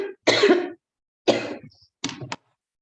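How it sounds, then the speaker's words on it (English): Three separate bursts of coughing from a person with a cold, close and fairly loud, each a short harsh blast with quiet gaps between, the last a quicker double cough. "Some cold cough I am having suddenly."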